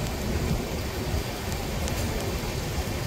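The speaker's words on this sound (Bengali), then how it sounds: "বৃষ্টি পড়ছে আর একদম বড় সময় লাভ দেবে।" Steady rain falls outside a moving train, a dense, even hiss of heavy rainfall with a low rumbling undertone running continuously.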